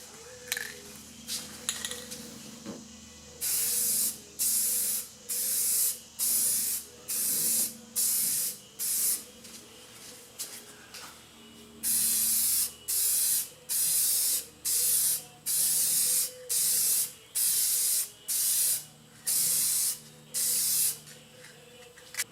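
Repeated short spray-can bursts apply a third, slightly heavier coat of clear finish onto a foggy car headlight being restored, about fifteen evenly spaced hissing blasts, close and loud, after a few quieter seconds.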